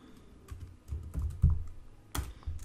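Keystrokes on a computer keyboard while code is typed for a Laravel web project, a run of uneven taps and clacks with a louder cluster near the end, close and clear with no talking.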